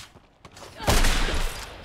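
A shotgun fires in the shooter game Scavengers, one loud blast near the middle followed by a rough, noisy tail, after quieter clicks and movement.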